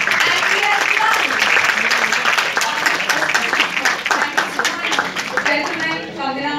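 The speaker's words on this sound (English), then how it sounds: "Ladies and gentlemen, a warm round of applause." Sustained applause from an audience at a press conference, a dense wash of clapping at steady loudness that tapers slightly toward the end, with chatter mixed underneath.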